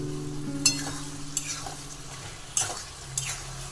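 Okra is added to a pan of spiced potatoes and fried, a close sizzling hiss broken by several sharp utensil scrapes and clinks as it is stirred. No one speaks.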